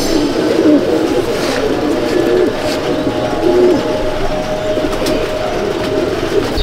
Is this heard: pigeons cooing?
yes